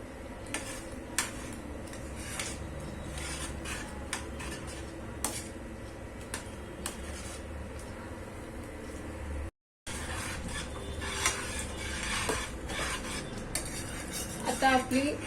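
A spoon scrapes and clinks steadily against a kadai while thick paneer butter masala gravy simmers and bubbles, repeated metallic taps over a soft sizzling bed, briefly cut off once before resuming.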